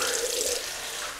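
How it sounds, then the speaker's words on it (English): Cold water runs steadily from a tap for a rinse after a shave with a Merkur 34c razor, a continuous close hiss of flowing water with no talk. "Cold water rinse though."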